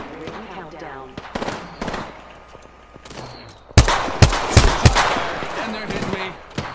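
Apex Legends gunfire: scattered shots at first, then loud rapid bursts and heavy fusillades crowd in, close and sharp, with some voices mixed in.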